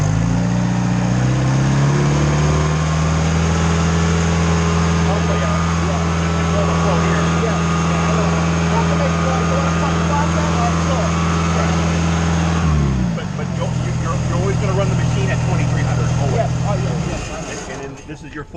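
The engine of a Schwing concrete pump runs at high RPM as a loud, sustained mechanical drone that drops in pitch near the end and then fades. Voices talk over it.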